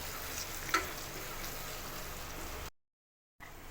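Tomatoes sautéing in a pan, a steady soft sizzle and crackle with one brief clink partway through, then a short cut to silence before the frying resumes.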